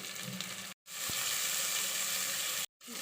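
Masala and field beans (avarekalu) fry in a pan for avarekalu palav, giving a bright, steady sizzling hiss up close. It cuts out briefly twice, and there is no one talking.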